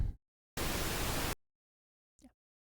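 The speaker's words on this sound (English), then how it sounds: "you'll hear what's being sidechained, which is the pink noise" A loud, steady burst of pink noise test signal, broadband hiss lasting under a second, with brief faint sounds before and after it.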